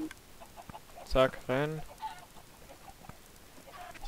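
Minecraft chickens let out two short clucks in quick succession over quiet game ambience, with brief speech nearby.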